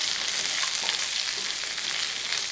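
Onion frying in a pan for egg chilli crackles with a steady, bright sizzle, close and continuous throughout.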